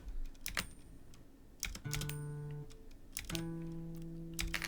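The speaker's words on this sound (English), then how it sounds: "Switch back to the keyboard." Someone typing on a computer keyboard while gaming, with scattered close key clacks and bursts and a few sustained electronic tones in between, all fairly quiet.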